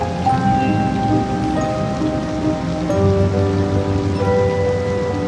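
Steady rain ambience from the city-builder game Cities: Skylines II, a continuous patter laid over a low, sustained musical drone, even in level throughout with no voices.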